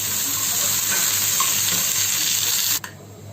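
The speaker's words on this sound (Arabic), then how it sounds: "هبتدي بسم الله انزل كده باللوز وهقلبه بالراحه خالص" Almonds frying in hot oil while being stirred gently: a loud, steady sizzle that holds evenly, then cuts off sharply near the end.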